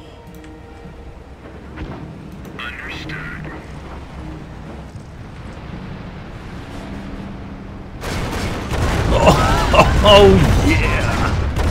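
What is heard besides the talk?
rocket barrage in video game Company of Heroes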